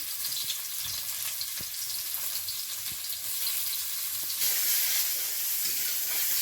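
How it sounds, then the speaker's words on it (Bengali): Chopped onions hitting hot oil in a home kitchen pan, a steady bright sizzle that swells louder partway through, with faint occasional clinks and no voices. "তেল দিয়ে দেব পেঁয়াজ কুচি"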